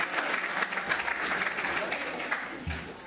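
An audience gives a round of applause at a talk, a steady rush of many hands clapping at moderate level, tapering slightly near the end.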